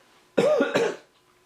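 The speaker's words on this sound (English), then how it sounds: "pardon me by the way for that cough" A single close cough with two quick bursts, loud and abrupt, then quiet.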